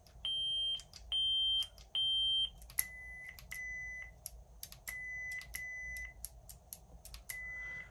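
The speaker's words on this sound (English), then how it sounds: "Either button that you press, the beep is going to get louder or softer, meaning you're raising or lowering the volume." Graflex Supreme lightsaber volume menu beeps: a run of short, high electronic tones, three matching beeps first, then a lower series at slightly varying loudness, each cleanly separated by brief clicks in a quiet room.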